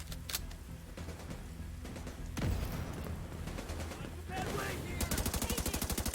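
Assault rifle fire in the shooter game The Division 2, bursts of gunshots crackling over a busy battle mix, ending in a rapid, evenly spaced automatic volley near the close.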